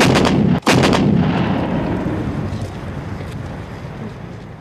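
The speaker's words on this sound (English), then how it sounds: "In one crucial assault, 100 guns concentrated their fire at one point, point 5140, in Tololing." Massed artillery guns firing during the 1999 Kargil war, concentrated on Point 5140 at Tololing: loud booming blasts at the start, then a long rumbling roll of distant gunfire fading slowly, with no talk.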